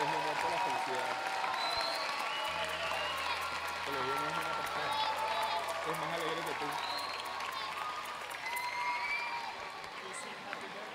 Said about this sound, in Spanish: Un fuerte aplauso al colegio que cumple 27 años.